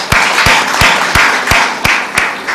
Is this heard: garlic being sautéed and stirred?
no